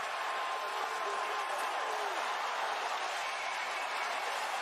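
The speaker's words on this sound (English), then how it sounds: "What a crowd. What an atmosphere here in Cleveland." An arena crowd in Cleveland at a Paul vs Woodley fight, a dense sustained roar of cheering and murmuring that stays at a constant level, with faint voices under it.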